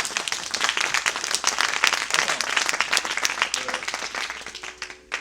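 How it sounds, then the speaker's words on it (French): A crowd at a live show applauds a guest with dense, steady clapping. It stays loud and full, then thins out toward the end. "On vous l'applaudit."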